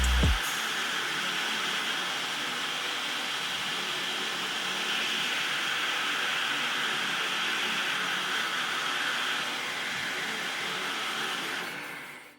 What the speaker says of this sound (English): I just melt the solder in the 2 top post holes with your heat gun